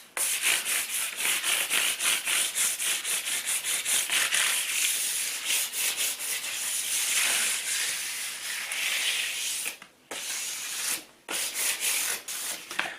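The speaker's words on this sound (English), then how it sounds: "This 180 grit sandpaper is absolutely perfect for sanding down between coats." Steady back-and-forth rasping of 180 grit sandpaper rubbing down a Hammerite-painted radiator between coats, close and continuous, with two brief pauses near the end.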